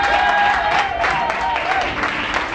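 A church congregation applauds together, a dense, steady wash of clapping that fills the room loudly from start to finish, with voices mixed in.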